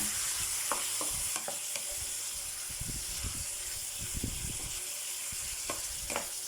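Pork liver stir-fries in a covered pan with a steady, soft sizzle and hiss, broken by occasional clinks and scrapes of a utensil.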